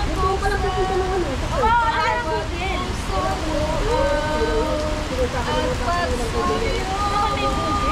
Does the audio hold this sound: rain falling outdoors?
yes